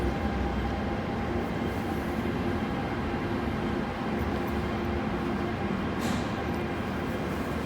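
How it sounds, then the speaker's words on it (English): An Airport Express train passes through Tsing Yi Station in Hong Kong, making a steady, loud rail rumble with a broad roar and hiss that stays constant throughout, with no voices. "Here comes another A train."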